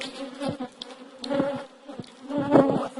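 Honey bees buzzing around an open hive while it is being smoked during an inspection, close fluctuating drones that swell and fade as individual bees pass near, with soft handling noises.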